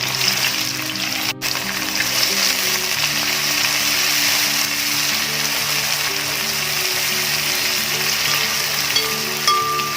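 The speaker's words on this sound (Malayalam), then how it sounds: "ഇതൊക്കെ ഉള്ളി ഒന്ന് ഫ്രൈ ചെയ്തെടുക്കാം" Onions frying in sunflower oil in a kadai: a loud, steady, close sizzle and crackle that holds for the whole stretch, with no talking.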